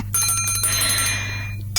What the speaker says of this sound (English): we can keep playing the bells